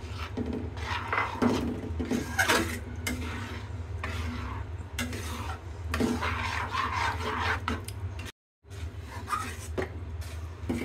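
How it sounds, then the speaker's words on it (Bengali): A spoon works grated coconut into semolina in a pan, making steady rasping, scraping strokes close up with a brief pause near the end and no talking. "নারকেলটা দিয়ে আমি ভালো করে মিশিয়ে দেব।"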